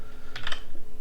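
Quick burst of keystrokes on a computer keyboard while entering Java loop code, a short cluster of crisp clicks near the mic with no talking.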